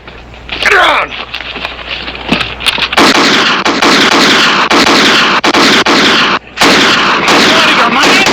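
Heavy, continuous gunfire roars through a western TV series shootout: a few scattered shots at first, then loud, sustained volleys of overlapping reports with only a short break near the end.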